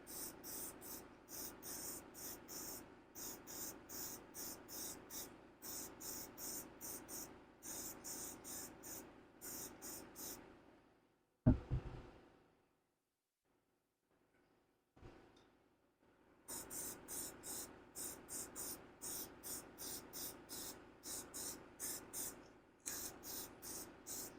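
Repeated short hissing bursts of an aerosol spray applying a thin coat in quick rhythmic passes, a pause with a clunk and silence, then the spraying resumes.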